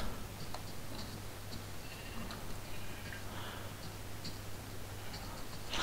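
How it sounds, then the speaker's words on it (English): Sheep in a video game bleat a few times over a steady low hum and busy game ambience, with the calls short and moderately close. "More sheep, my new best friends."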